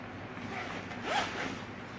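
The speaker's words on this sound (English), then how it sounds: "The first zipper, when you undo it" A zipper on a cycling bag compartment is undone in one quick, close rasping pull, alone against a quiet background.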